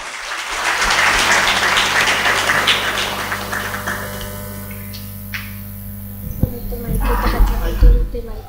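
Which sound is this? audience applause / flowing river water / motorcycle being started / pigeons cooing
audience applause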